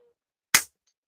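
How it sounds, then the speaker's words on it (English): A wrestler's hair braid whips through the air during a WWE match, giving a single sharp, loud crack like a gunshot that decays quickly within a quiet moment. "I ain't heard that hair whip that bad since Bianca lit up Sasha Banks at WrestleMania"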